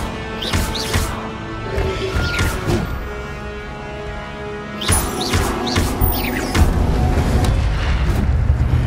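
Incendio fire spell cast in Hogwarts Legacy, with repeated bursts of booming, crackling flame blasts that come in two clusters, loud and close over a steady rumbling game background.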